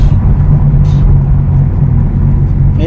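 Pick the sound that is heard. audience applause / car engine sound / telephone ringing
car engine sound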